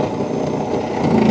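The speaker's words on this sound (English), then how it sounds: "we're going to use a cordless drill to gain a purchase point" Cordless drill boring a purchase point during a rescue strut setup for an arm entrapment, a steady continuous whirring motor drone lasting the whole moment, fairly loud and close with no talk.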